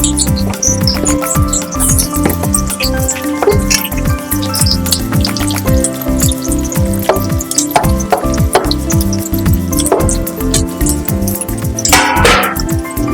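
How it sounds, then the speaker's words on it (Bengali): Onions frying in about 100 grams of hot oil make a steady, continuous sizzle with crackles and pops throughout, over a faint tonal background. "তেল আমার গরম হয়ে গেছে, এই তেলে আমি পেঁয়াজগুলো দিয়ে দেব"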